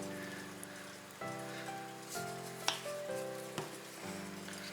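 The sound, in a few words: butter and honey simmering to a gentle boil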